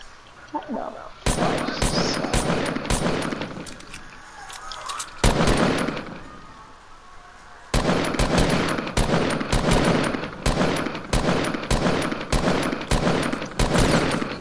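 Rapid automatic gunfire in a Fortnite battle, loud and near, firing in long repeated bursts with a short pause in the middle, while a player talks over it.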